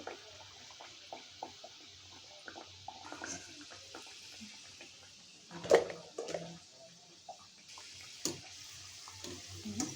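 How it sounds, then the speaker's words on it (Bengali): Egg puris deep-frying in hot oil, heard as a soft, steady sizzle with scattered crackles and a few sharper pops and utensil clinks close by, without any talk. "এরকম করে আমি সবগুলো পুরি ভেজে নিই।"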